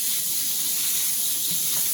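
Beef pieces pressed into a hot pan beside pasta sizzle in a steady, loud broadband hiss with no pauses, close up and with no talk over it.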